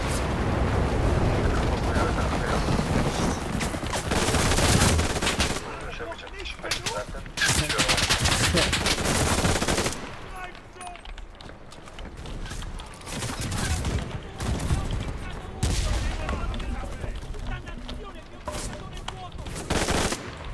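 Gunfire from a 1918-era weapon in the World War II shooter Enlisted, dense bursts of shots and battle noise filling most of the stretch, with brief lulls between volleys.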